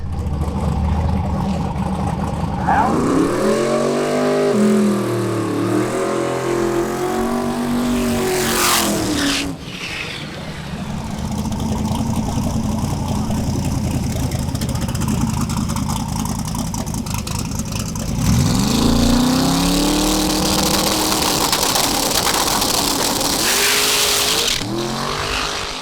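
A race car revs and pulls away hard, its engine sweeping up through gears with loud rising whines, a brief lull, then another strong acceleration with tire noise, close and dominating throughout.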